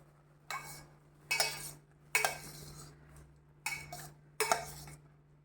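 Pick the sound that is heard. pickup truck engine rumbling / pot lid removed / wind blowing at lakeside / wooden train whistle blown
pot lid removed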